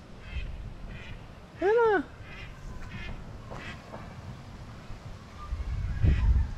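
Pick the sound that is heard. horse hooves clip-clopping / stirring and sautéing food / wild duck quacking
wild duck quacking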